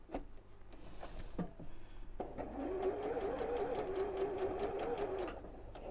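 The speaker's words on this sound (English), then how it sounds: "just sewing as close to the teeth as I can, but without sewing through the teeth" A sewing machine stitches a zip in close beside the teeth. After a few short starts and stops it settles into a steady rapid whirring run, fairly quiet and close.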